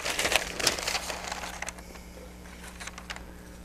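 Parchment paper crinkles as it is laid over a wood inlay before clamping, a burst of crisp close rustling at the start that fades into softer scattered crackles.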